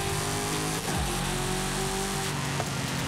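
A rally car engine in Forza Horizon 5 roars continuously near and loud, revving up and dipping as it shifts, with tire and road noise underneath and no talk.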